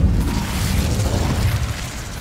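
The Incendio fire spell is cast in Hogwarts Legacy, a loud, dense fiery burst that roars continuously for about two seconds with a deep, rumbling low end.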